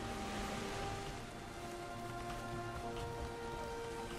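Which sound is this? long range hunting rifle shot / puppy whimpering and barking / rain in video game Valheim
rain in video game Valheim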